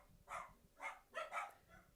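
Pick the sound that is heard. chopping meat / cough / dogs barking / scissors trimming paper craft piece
dogs barking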